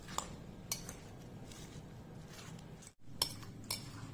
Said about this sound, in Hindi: अब इसमें हमने सारे फल यानी केले, छिलके के साथ कटे सेब और अंगूर सारे डाल दिए और अब हम इसे मिक्स कर रहे हैं